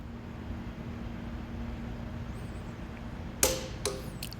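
A hand-held torque wrench being turned until it clicks at its set torque, giving two sharp metallic clicks near the end over a steady background hum, the first louder than the second.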